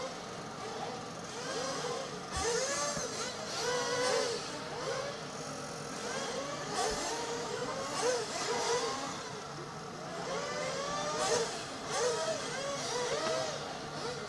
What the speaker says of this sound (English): So you can hear them all revving up in the pits, getting ready to go out there and run.